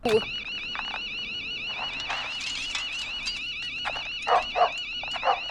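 A dog whimpers and gives a few short barks beneath a loud, warbling electronic alarm, with people talking over the scene.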